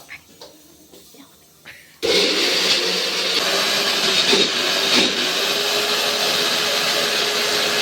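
A kitchen mixer grinder coarsely grinding Andhra-style brinjal chutney starts abruptly after a short stretch of quiet talk, then runs as a loud, steady whirring drone with slight wobbles until the end.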